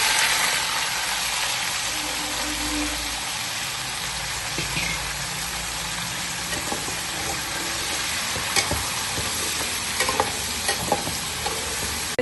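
Turnips fry in hot oil for a shalgam dish, a steady, close sizzling hiss running throughout, with occasional light scraping and stirring clicks.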